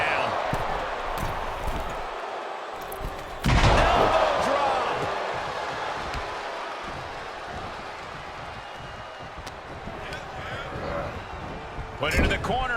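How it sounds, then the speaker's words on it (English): A wrestler is body-slammed to the mat in the WWE 2K23 video game. A single heavy thud lands over arena crowd noise, and game commentary talks over the scene. "Gets slammed down."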